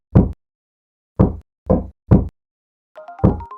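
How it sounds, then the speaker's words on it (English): Sharp raps on a door come in a spaced pattern: one knock, a pause, then three quick knocks and a final one, loud and close over silence. "you're knocking on the door again"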